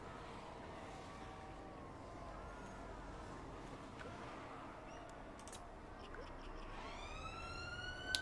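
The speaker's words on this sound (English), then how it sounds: "Sorry about the sirens going by." Police sirens wail faintly outdoors, passing by over a steady background hum, rising a little toward the end.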